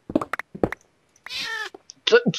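A cat in the video game Minecraft meows once, a clear drawn-out call that rises between bursts of nearby male speech.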